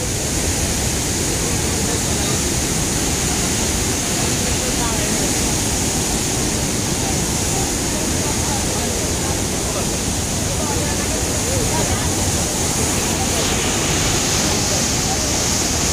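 A roaring waterfall with a strong current, a loud, unbroken wash of rushing water across the whole stretch that drowns any other sound.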